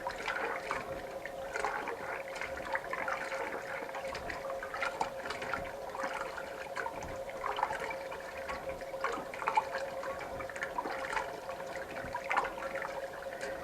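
Water runs and trickles steadily through nixtamalized corn being rinsed, a faint, continuous splashing with small drips and gurgles and no voices.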